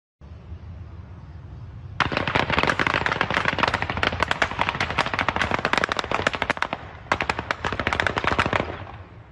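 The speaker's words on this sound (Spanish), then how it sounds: "Son disparos al aire de un vehículo particular que pasó por la carretera internacional" After a moment of quiet, loud rapid bursts of automatic gunfire fired into the air from a passing vehicle on a highway rattle close by, pausing briefly before another burst near the end.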